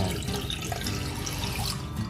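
A water tap runs in a clean hotel bathroom in Palawan, a steady close splash of flowing water lasting throughout, fairly quiet and with no talking over it.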